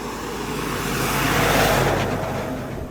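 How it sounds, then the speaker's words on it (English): A car passes along a narrow mountain road near Khe Ha in Ninh Binh, its broad engine and tyre roar swelling steadily toward a peak at mid-clip before easing off, close by and with no talking. "it's a narrow road, so you gotta watch out for traffic"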